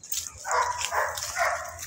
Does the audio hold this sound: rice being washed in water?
no